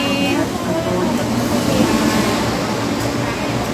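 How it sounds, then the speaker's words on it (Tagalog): A Hong Kong MTR train arrives at a station in Sha Tin, giving a steady loud rumble and rolling hum throughout, with faint crowd murmur in the background. "May train na, sasakay na kami."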